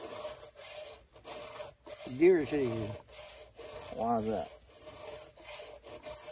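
Steady rasping strokes of a file sharpening a chainsaw chain run throughout, close and moderately loud, with people talking over the filing.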